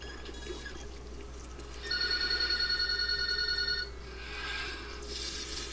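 A telephone rings in the sci-fi horror shooter Doom 3, a fast trilling electronic ring lasting about two seconds, moderately loud over a steady low ambient hum and hiss, with no talking.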